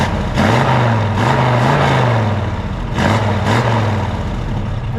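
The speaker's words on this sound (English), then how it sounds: "It's got a really nice dual exhaust sound to it." A deep, rumbling 327 V8 with dual exhaust in a 1968 Camaro idles steadily close by, its low throb rising and falling with a few light revs.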